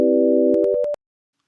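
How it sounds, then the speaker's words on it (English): Synthesized pure tones without envelopes: several steady pitches start together, then cut off one by one with abrupt clicks at each sudden offset, leaving silence. "we have no envelopes on these tones, so they have very sudden onsets and sudden offsets"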